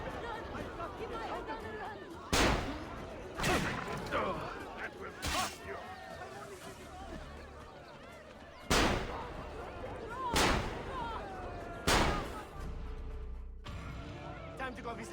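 Gunfire rings out in Assassin's Creed Revelations as several loud, sharp shots crack one after another at irregular intervals, with crowd chatter and battle noise running beneath them.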